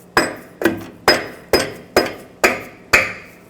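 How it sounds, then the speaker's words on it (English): A wrench on an exhaust bolt of a 2009-2010 Ford F-150 catalytic converter pipe gives seven sharp metallic strikes at a steady rhythm, each with a short ringing decay, close and without talk. "let's see if the wrench will get it"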